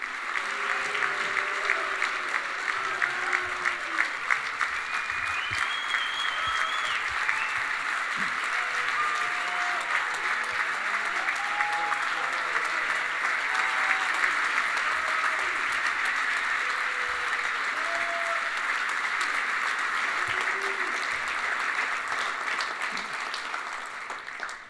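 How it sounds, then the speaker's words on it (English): Steady, sustained applause from a banquet audience at the 2018 Lou Brock Award ceremony honoring Dee Gordon, with dense clapping holding at an even level throughout and faint voices underneath. "thank you kindly for those applause"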